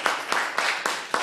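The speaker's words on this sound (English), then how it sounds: "let's give them a round of applause" A classroom crowd claps for fifth graders in a short stretch of steady, dense applause with rhythmic peaks and no voices on top.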